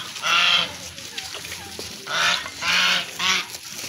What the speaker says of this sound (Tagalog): Pato ba na? O gangsa?